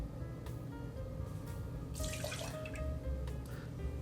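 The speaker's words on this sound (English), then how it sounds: "I'm going to pour in 2 full ounces of the Knob Creek 9-year" Knob Creek 9-year, 100 proof bourbon, poured into a mixing glass for an old fashioned: a steady close liquid stream trickling and splashing for about four seconds, with no talking.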